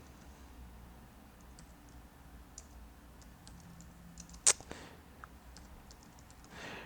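Sparse, faint keystroke clicks on a computer keyboard in a quiet room, with a few scattered taps and one sharper click near the middle, no talking.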